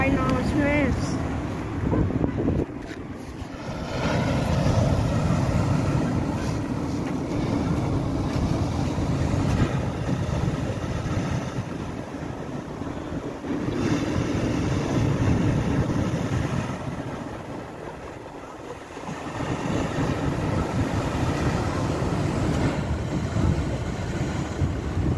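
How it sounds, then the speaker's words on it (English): Large waves break on the sand at Withernsea Sands on the Yorkshire coast, a steady broadband roar of surf with heavy wind buffeting the microphone, loud and close throughout, with a voice speaking over it now and then. "Look at these ginormous waves."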